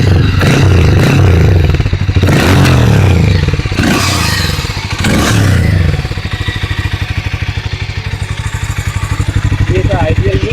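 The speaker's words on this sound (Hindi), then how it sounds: "तो बाइक को अभी हम चालू करते हैं।" A 2025 Harley-Davidson X440 motorcycle fires up close by with a clattering start, blips its throttle in several loud bursts, then settles into a thumping, pulsing idle.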